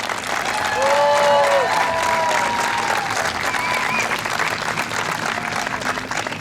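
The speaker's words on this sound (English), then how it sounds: "give one round of applause to our president" A crowd applauds steadily for several seconds at a closing ceremony, dense clapping filling the room, with a few voices and whoops rising above it.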